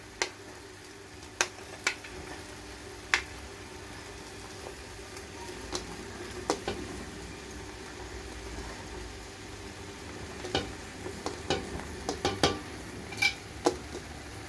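Chopped capsicum sizzles faintly in a pan with cooked chicken, a low steady hiss broken by sporadic clicks and utensil scrapes that crowd together toward the end.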